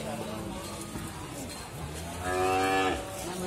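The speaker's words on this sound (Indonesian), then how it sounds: "di depan saya ini ada sapi PO" Cattle, including PO beef cows and calves, at the Ambarketawang livestock market in Sleman, Yogyakarta: one loud, close moo rises near the end over a background of crowd chatter and market noise.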